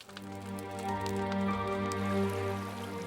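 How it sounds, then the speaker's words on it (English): A river flowing after a buffalo hunt, a soft steady wash of water with a faint ringing tonal hum above it, quiet and unbroken. "It's the sound of a river after a successful hunt."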